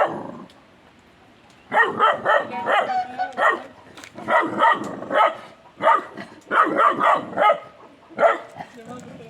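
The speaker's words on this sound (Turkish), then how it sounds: "Aynada kendine havlayan bozu" A Kangal puppy barks at its reflection in a mirror, repeatedly in short bursts and yips close by, the barks coming in uneven clusters after a brief quiet start.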